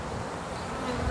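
Many honey bees buzzing around frames of an open hive in spring, a dense continuous drone heard close and steady.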